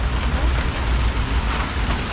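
Steady rain pours down during a storm in Central New York, a dense, even hiss of drops with a low rumble underneath and no clear breaks for the full two seconds.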